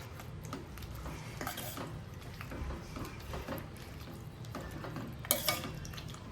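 A tamarind and date chutney mixture with salt and dry ginger powder being stirred in a pot off the heat, with soft scraping and clinking of a spoon against the pot that rises and falls steadily and is heard alone.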